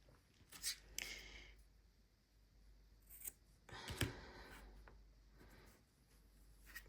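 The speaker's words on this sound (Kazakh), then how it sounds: "Міне, енді жіпті қиып" Scissors snip through crochet yarn at close range, a couple of quiet crisp cuts separated by soft handling rustle, faint and without any voice.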